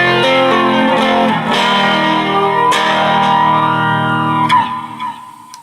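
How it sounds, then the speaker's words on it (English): Electric guitar chords run through a flanger on a Zoom G2G George Lynch signature multi-effects unit, loud and sustained with a sweeping, swooshing jet-like modulation rising and falling across the notes, played alone before fading out. "A second kind of flanger as well."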